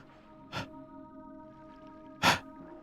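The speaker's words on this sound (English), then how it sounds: "sorry, I had to sneeze." Two short, sharp sneezes about two seconds apart over a faint steady hum, fairly close and otherwise quiet.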